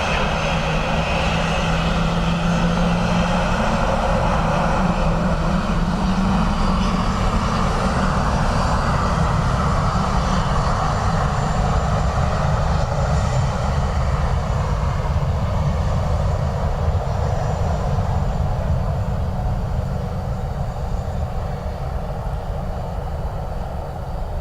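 A jet airliner landing on runway 28 left at Dublin Airport in a gusty crosswind, its engine roar loud and steady throughout, a broad continuous rumble with a faint whine on top and no voices.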